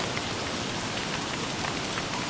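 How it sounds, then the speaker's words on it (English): Rain falling in a video game, a dense, steady hiss of drops spread evenly across the whole moment, with no voices or other sounds rising above it. "Why do you have to rain today?"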